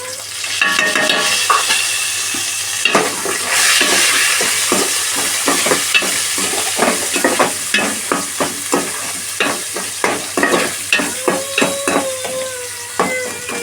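Onions fry in a pan with turmeric and chilli powder, a bright continuous sizzle overlaid by a quickening series of rhythmic spatula taps and scrapes, loud and close, with no talking.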